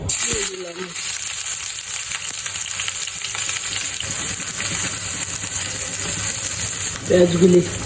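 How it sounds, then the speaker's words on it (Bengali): Onions for prawn malai curry sizzle steadily in a hot pan, a close, continuous crackle with a few brief clinks. "পেঁয়াজগুলি আমার ভাজা হয়ে গেছে"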